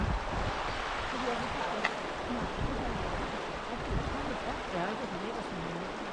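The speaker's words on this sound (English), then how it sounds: "It's a bit windy" Steady wind buffets the outdoors at the Dovedale stepping stones, a constant broadband roar with gusty rumble at the microphone, and faint voices and water sounds mixed underneath throughout.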